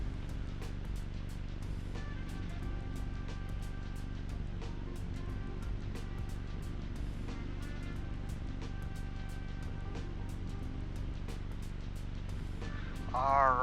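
Small single-engine airplane engine held at 1700 RPM for a pre-flight run-up, a steady droning roar with low harmonic throb running throughout, loud and close inside the cockpit, swelling slightly at the end.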